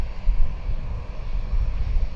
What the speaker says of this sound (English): Listen to these engines.